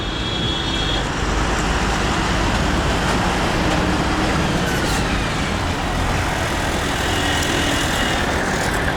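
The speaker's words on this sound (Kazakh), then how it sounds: "мында жоғарында метро өтеді, астында машинаға арналған жол" Road traffic on a street beneath an elevated metro line in India: a loud, steady wash of engine and tyre noise with no breaks, passing vehicles blending into one continuous roar.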